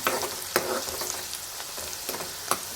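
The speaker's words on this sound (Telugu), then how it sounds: "ఆనియన్స్ పచ్చిమిర్చి అయితే ఇంకా వేగిపోయాయి" Onions, green chillies and turmeric sizzling in a pan for chicken gravy curry, a close steady crackling fry with a few sharp pops and stirring scrapes, no talk.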